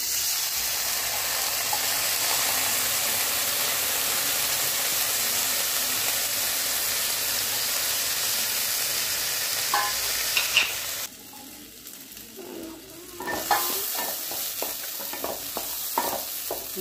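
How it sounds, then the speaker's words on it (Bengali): Rice frying in ghee in a pan, a loud steady sizzle and hiss that continues for several seconds, then drops briefly before returning with scraping stirring sounds and crackles. "চালটা আমি একটু ঘি নিয়ে চালটা ঘি দিয়ে একটু ভেজে নেব, বেশি না 2 মিনিট মতো।"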